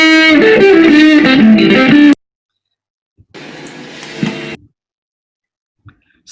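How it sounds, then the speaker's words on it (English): A homemade distortion effect built from parts scavenged from energy-saving bulbs gives a loud, buzzy, harmonic-rich tone shifting through several pitches, then silence, then a second quieter, harsher burst that cuts off abruptly. "And here with the distortion effect."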